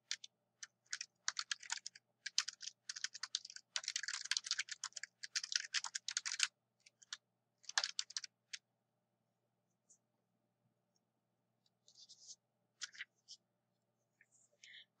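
Computer keyboard typing a slide title in PowerPoint, rapid clustered keystrokes in bursts that thin out into scattered clicks and pauses, close and fairly quiet with no talk.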